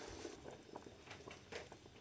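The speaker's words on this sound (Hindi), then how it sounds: "तो देखते हैं बॉयल हो गया पानी।" Water comes to a boil in a pot before rice is added for chicken kofta biryani, giving a faint, steady bubbling and patter with small pops scattered throughout.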